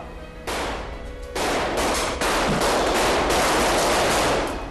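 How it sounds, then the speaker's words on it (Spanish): Sustained gunfire in a staged mafia shootout breaks out: dense bursts of shots begin abruptly and grow louder in steps, continuing without pause as a loud, continuous barrage. "tras unos momentos de silencio empiezan los disparos."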